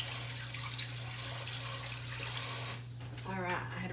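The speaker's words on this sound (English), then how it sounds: "I had to rinse my hands off" Hands rinsed under a running kitchen tap while cooking potatoes for a Sunday dinner, a steady hiss of water that breaks off briefly and then resumes with splashing near the end.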